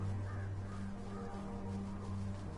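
Crows cawing in the video game Everything, harsh calls rising over a constant low electronic hum of the game's soundscape, with no talking.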